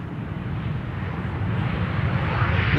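A Boeing 737-900 arriving at Amsterdam Schiphol Airport passes with a continuous low jet engine roar that grows slightly louder toward the end, with no voices.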